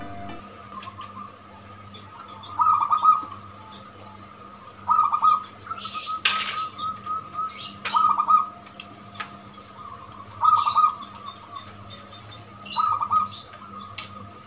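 Soft, repeated zebra dove coos arrive in short bursts every couple of seconds over a steady low hum, fairly close and moderately loud, with no voices.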